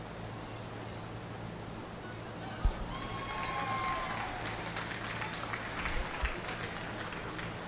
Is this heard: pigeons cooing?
no